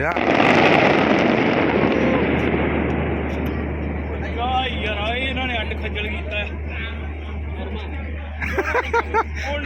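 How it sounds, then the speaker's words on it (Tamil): Rapid crackling bursts of firecrackers ring out loudly amid a noisy crowd near Lusail Stadium in Qatar, the popping continuing in scattered clusters while people chatter in the background. "இங்கே வந்து பாருங்கள் எப்படி வெடி வெடிக்கிறாங்கன்னு"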